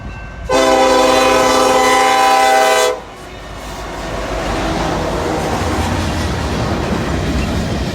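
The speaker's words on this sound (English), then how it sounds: "Michael, how many cars did this train had? This was long and heavy." A long, heavy freight train sounds a loud, sustained horn blast for a couple of seconds, then its cars roll past close by in a steady, rumbling clatter that continues to the end.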